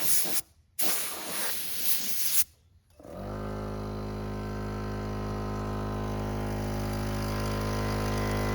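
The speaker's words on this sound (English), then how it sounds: "So while the air compressor's running, you probably can't hear me" An air compressor in an auto paint shop kicks on after a few bursts of blown air and runs loud and steady, a constant droning hum with a hissing edge that fills the rest of the clip.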